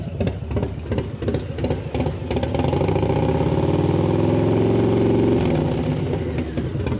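A motorcycle fitted with an SP Concepts Lane Splitter exhaust blips its engine a few times, then revs up and holds steady around 3000 RPM in a loud, close, throbbing drone before easing back down.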